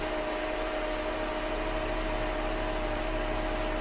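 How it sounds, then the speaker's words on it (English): A car engine ticks over at idle with its hood open after a DIY water-glass head gasket repair, giving a steady, even drone with a constant hum and no talk over it. "Maybe it's because this engine is running, but there is no milkshake."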